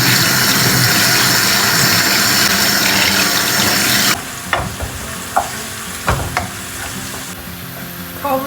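Onions and bulgur frying in a pan, a loud steady sizzle for about four seconds, then a quieter crackle with sporadic clinks and stirring scrapes.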